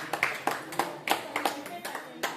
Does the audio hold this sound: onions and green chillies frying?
no